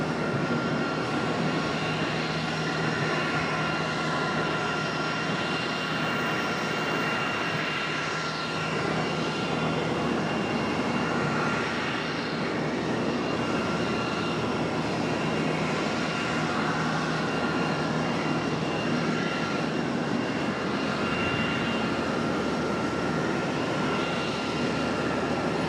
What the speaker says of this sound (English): So CRJ coming in center from Greenville,